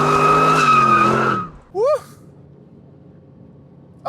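A new Aston Martin Vantage drifting on a race track, a loud sustained engine howl that fades out, followed by a short rising tire squeal and a brief exclamation.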